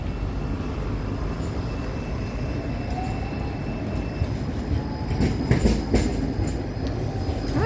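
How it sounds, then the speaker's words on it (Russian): A tram in Wrocław rumbles past at moderate distance, wheels clattering and faintly squealing, growing louder toward the end. "И трамвайчик. Ну, трамвайчик радует"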